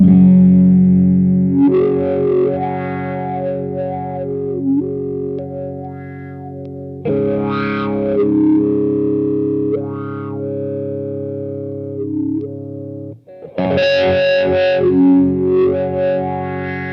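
Distorted electric guitar run through a Dunlop Crybaby Q Zone fixed wah pedal on its narrow frequency setting, several strummed chords and riffs with a nasal, focused filtered tone, close and without talk.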